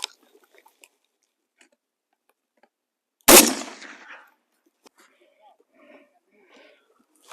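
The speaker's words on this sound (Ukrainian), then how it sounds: "будемо зараз стріляти на відстані 20 метрів" A single sharp, loud 7.62 rifle gunshot at an armor plate from 20 meters cracks out of near silence and rings briefly, followed by faint scattered sounds.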